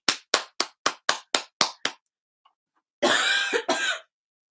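A quick run of eight sharp, evenly spaced taps, then a short pause followed by two harsh, breathy coughs close by.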